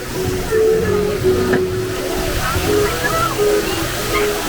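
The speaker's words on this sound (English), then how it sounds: "Oh, the looniest fountain there ever was." Splashing, rushing water from a fountain at Disneyland, a loud, steady wash of falling water with voices talking over it throughout.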